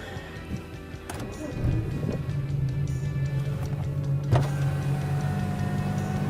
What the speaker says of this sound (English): All right, now we're gonna start the car.